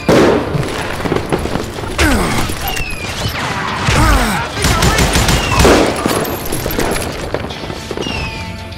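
Rapid bursts of gunfire and booming shots ring out loudly throughout a Wild West shooter video game, with dense fusillades, mechanical clatter and crashes layered over music-like tones.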